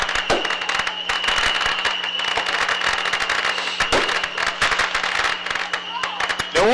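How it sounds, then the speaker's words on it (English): Saturn missile fireworks crackle and pop in a rapid dense barrage of sharp bursts over a steady tonal hum, with a crowd audible beneath. "These are Saturn missiles, I believe."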